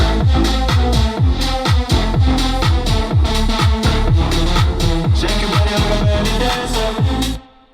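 Second drop of a self-made electronic dance track: a dense, loud mix with punchy beats and repeated downward-sweeping bass hits in a driving rhythm, cutting off abruptly at the end.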